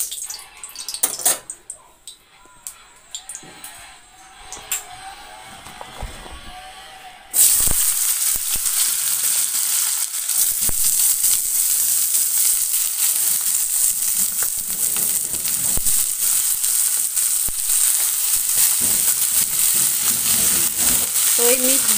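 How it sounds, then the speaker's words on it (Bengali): Mixed eggplant, potato and ridge gourd frying in a wok: scattered clinks and stirring at first, then a sudden loud, continuous sizzle that carries on unbroken, close up. "তো এটা হচ্ছে আমাদের ভাজা মিক্সড বেগুন, আলু, ঝিঙা।"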